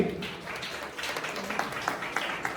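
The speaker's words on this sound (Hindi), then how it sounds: "जोरदार ताली" An audience claps loudly and steadily at a school prize-giving ceremony, a dense wash of applause with a voice faintly beneath it.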